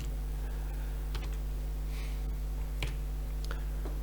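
Sparse, quiet keystrokes tapping out coordinates on a computer keyboard, a few scattered clicks over a steady low electrical hum.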